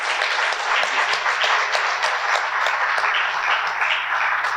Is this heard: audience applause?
yes